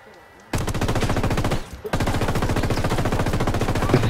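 Gunfire in Ghost Recon Wildlands: after a quiet start, a loud automatic weapon opens up in rapid, evenly spaced bursts. The firing pauses once briefly, then continues steadily to the end.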